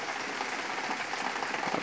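Heavy rain pours down in Rio Grande do Norte, a dense steady hiss of drops drumming on surfaces, close and continuous.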